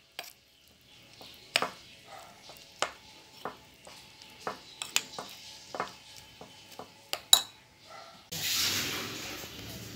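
A spoon stirs alamang (shrimp paste) omelette batter in a bowl, making about a dozen sharp taps and scrapes in an irregular rhythm, close and fairly quiet. A steady hiss at the end sounds like oil sizzling.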